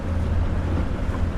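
A Highfield 380 Sport boat with a 60 horsepower outboard runs on the water, a steady low engine drone with wind and water rush, loud and continuous.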